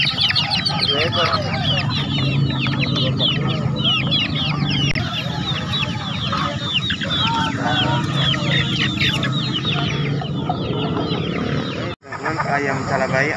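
Chickens at a bustling chicken market in Makassar cluck and crow in a dense, continuous chorus close by, with people talking over the birds throughout.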